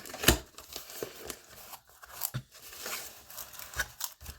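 Paper wrapping crinkles and tears as it is pulled off a small Louis Vuitton PM ring agenda box, with sharp rustling bursts and a few quieter pauses, close and alone.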